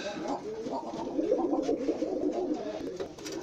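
Breeding pigeons cooing nearby, soft throaty calls that repeat and overlap in a steady low murmur, with faint other sounds around them.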